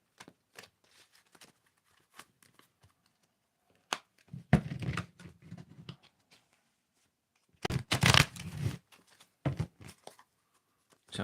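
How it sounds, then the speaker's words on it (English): Tarot cards being shuffled by hand: scattered soft taps and riffles, then two louder bursts of riffling, fairly close and otherwise quiet. "Tell me when to stop shuffling."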